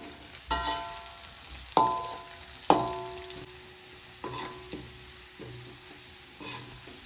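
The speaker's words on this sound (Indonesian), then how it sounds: "Kita goreng bawangnya seperti biasa sampai sedikit mencoklat" Onions fry in a pan with a quiet, continuous sizzle, broken by several sharp scraping knocks as a utensil stirs them at irregular intervals.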